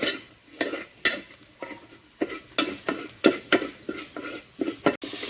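Ground dried chilli is stirred into a frying raw plantain upperi mixture. Regular scraping strokes of a spoon against the pan punctuate a low sizzle, close and fairly loud, with no talking.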